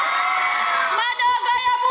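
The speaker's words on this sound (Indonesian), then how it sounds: "kita berikan aplaus terlebih dahulu kepada adik-adik kita." A crowd cheers and shouts loudly at a school marching-drill competition, with children's voices whooping over the noise in a brief, dense burst.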